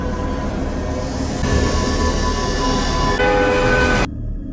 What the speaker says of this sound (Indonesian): ternyata di sampingnya ada sebuah kereta yang melintas